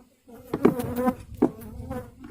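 Honeybees being moved back into a hive during spring hive care after winter, buzzing loudly and close in wavering, rising swells with no talk.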